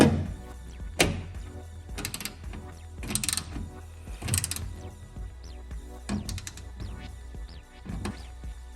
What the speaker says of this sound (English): We're going to take our 7/16 and tighten that down.